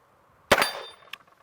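One sharp shot from a 1917 .45 revolver on a shooting range, a single loud crack with a short decaying tail, followed by a fainter second knock about half a second later.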